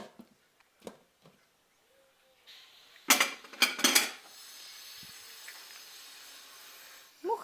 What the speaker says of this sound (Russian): Сейчас я помою эту посуду.